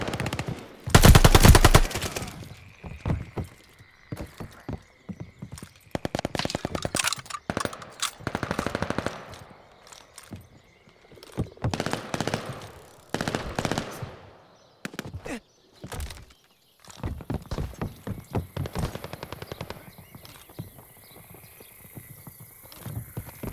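Rapid automatic gunfire in the Call of Duty Vanguard team deathmatch on the Bocage map, bursts of sharp shots stuttering loudly in repeated clusters separated by brief pauses, with occasional single cracks.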